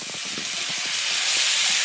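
Worcestershire sauce sizzling as it hits a beef stir fry in a hot pan, a steady bright hiss with faint crackles running throughout, fairly close and continuous.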